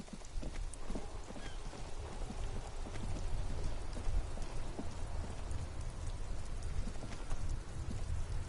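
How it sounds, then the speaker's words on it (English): Steady rain falls in a video game scene, a dense continuous hiss of drops with scattered louder spatters and taps, nearby and unbroken throughout with no talk. "This rain will not let up anytime soon."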